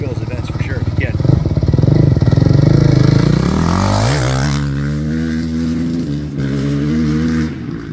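A 2019 Suzuki 450 JGR factory motocross bike roars loudly and close, revving hard with a rising then falling engine pitch as it rides past, while voices talk over it.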